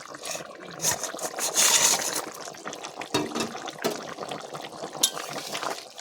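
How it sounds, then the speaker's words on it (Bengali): Fried puna fish being added to a pumpkin and potato curry in a pan, with wet splashes, liquid sloshing and clinks of utensil against the pot in irregular close bursts. "ভেজে রাখা মাছগুলো এবার দিয়ে দেবো"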